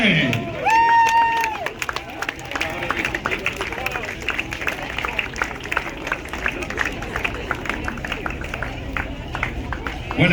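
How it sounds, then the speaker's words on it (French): An outdoor crowd at the Ocean Race Europe departure from Nice harbour claps and cheers steadily as sailing crews file past toward the pontoons, while an announcer talks over the dense, continuous applause. "Je vous demande de donner un applaudissement lors de leur passage devant vous."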